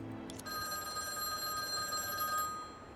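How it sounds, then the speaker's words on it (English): A payphone in a video game rings loudly, a bright, sustained electronic ring close by and alone after a brief initial bump. "The payphone started ringing loudly."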